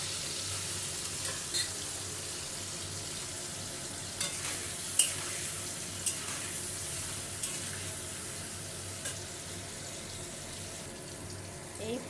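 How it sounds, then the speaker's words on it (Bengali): Paneer fries in oil in a home kitchen, giving a soft, steady sizzle with a few faint clicks and stirring knocks scattered throughout, fairly quiet and without talk. "এই পনিরটাও ভাজা হয়ে গেছে,"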